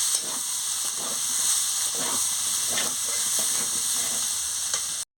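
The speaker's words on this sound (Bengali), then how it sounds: "আলু দিয়ে মশলার সঙ্গে ভালো করে কষিয়ে নিচ্ছি।" Potatoes are sautéed with spice paste in a pan, giving a loud, continuous sizzle and hiss up close, with a few scraping stirs under it and no talk.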